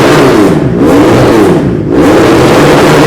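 A 400cc twin-cylinder motorcycle engine revving hard, very loud and close, rising and falling twice in quick throttle blips over a constant roar.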